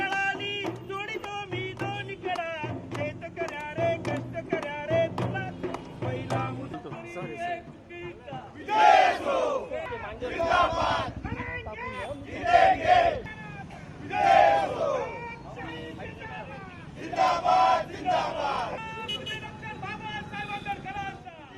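A crowd celebrates the repeal of the three farm laws, bursts of loud cheering and shouting rising over a steady babble of voices and chanting, with people talking throughout.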